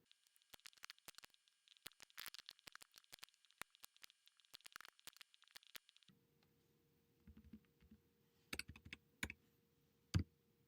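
Quick, irregular typing on a computer keyboard clicks away up close during macOS data entry, then slows to a few sparse, sharper key taps over a low hum.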